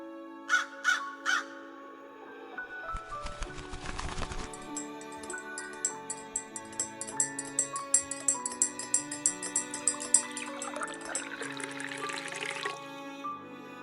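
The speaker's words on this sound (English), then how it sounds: "A crow perched on the toaster let out a sharp, questioning call." A crow caws as a sound effect in a narrated story, with several sharp calls at the start, then clinking, dripping sounds and tonal notes running through the rest.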